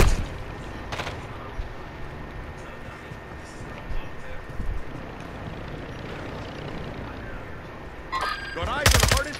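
Automatic gunfire in the video game Call of Duty MW2, with sustained rattling bursts and loud sharp shots near the end over a rumbling background, and voices talking at times.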